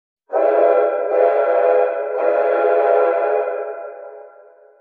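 A train whistle sounds alone in one sustained, loud, chord-like blast of about four seconds, with slight swells in tone before it tapers off.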